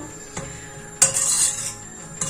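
Mushrooms with flour are lightly sautéed in a pot for a creamy chicken mushroom soup, heard as a few spoon clinks and scrapes against the pot over a faint sizzle.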